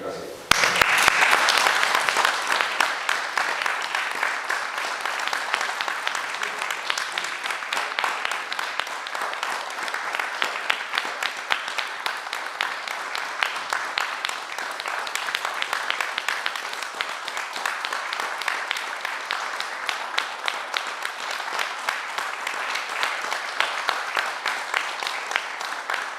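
Sustained audience applause at a 2021 poetry book presentation in Vallehermoso, steady dense clapping that fills the room and holds for nearly half a minute at an even level.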